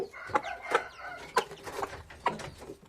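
A Malatya Arabian hen, a local-blood and purebred cross, clucks with her chicks in a series of short, fairly close calls spaced about half a second apart, with light chirping between them.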